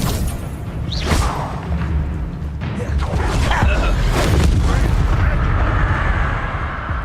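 Spell blasts in the wizarding video game Hogwarts Legacy, loud whooshing booms and thuds layered over dense combat noise, with a voice shouting over the barrage.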